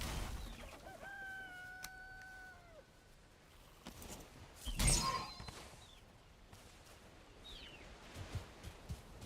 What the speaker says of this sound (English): Hey, it's a chicken.